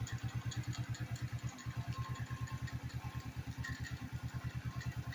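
A Sikk Ped moped engine running on ethanol-free fuel idles just after start-up. It gives a close, steady, rapid putter with a regular pulsing beat and one brief stumble, with no voices over it.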